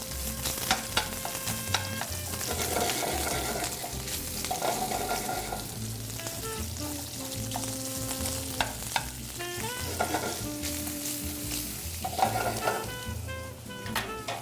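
Hot Italian sausage sizzling in a pan on the stove, a continuous frying hiss broken by repeated stirring scrapes and clinks of a utensil, close and steady.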